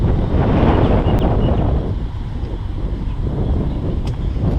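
Strong wind buffets the microphone with a heavy, continuous rumble, gusting slightly louder at the start.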